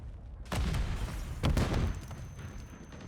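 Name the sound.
gunfire and grenades in a video game match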